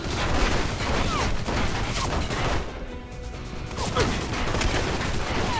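Sustained automatic gunfire in the Alpha Protocol video game: dense, loud bursts of shots fired in rapid succession, with a brief lull before the firing resumes.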